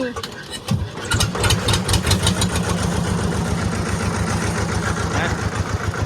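A small E-taen farm tractor engine cranks and catches within the first second, then settles into a loud, steady, throbbing idle heard up close.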